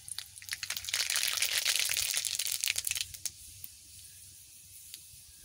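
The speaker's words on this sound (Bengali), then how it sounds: "গরম হয়ে গেছে, আমি সর্ষে দিয়ে দিচ্ছি।" Mustard seeds crackling and sizzling in hot oil in a pan, a dense bright burst of popping for a few seconds that thins out into scattered faint crackles.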